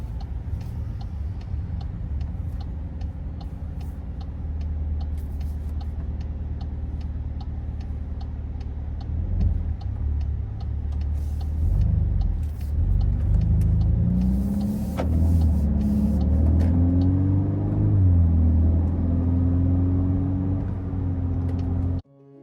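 A Volkswagen Golf 8 R drives on the road, its steady engine drone and low road rumble continuous throughout, rising into louder revving with shifting engine pitch in the second half before cutting off abruptly at the end.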